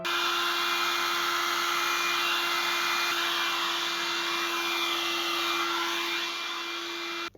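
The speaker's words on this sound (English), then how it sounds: "Well, I love my own hairdryer." A hair dryer blows on wet poured acrylic paint, a loud steady close whine and rush of air with a sharp tone, running alone without pause.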